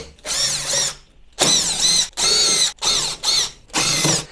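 A power drill runs in five bursts of about a second each, separated by short pauses, as screws come out of the case of a WattCycle Gen2 48V 100Ah LiFePO4 server rack battery. It is loud and close, with no voices.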